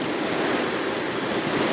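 Rushing wind roars steadily past the rider during a fast downhill run on a DIY touring e-bike in the Mt Adams Gifford Pinchot area, a dense continuous buffeting with no pauses.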